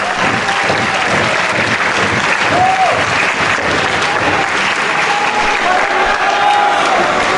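Wrestling crowd in Atlanta applauds and cheers loudly and steadily throughout, a dense wall of clapping and crowd noise rising to its feet during a tag-team match.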